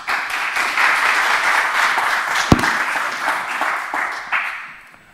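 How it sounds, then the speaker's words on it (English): A conference audience at a Python talk claps for a presenter, steady broadband applause that holds evenly and tapers off toward the end. "Give him some claps."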